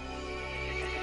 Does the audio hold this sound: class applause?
no